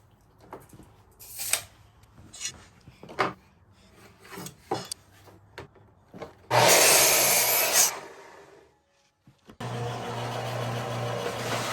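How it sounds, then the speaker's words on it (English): Several short bursts of rough cutting on a 1x6 wooden board, then a longer loud stretch of steady sawing, a brief pause, and a sustained sawing noise to the end. "Start out by cutting a 1x6 to 16 inches."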